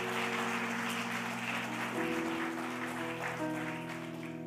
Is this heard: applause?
yes